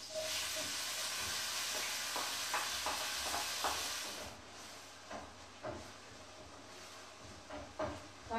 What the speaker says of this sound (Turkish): soğanı ilave edeyim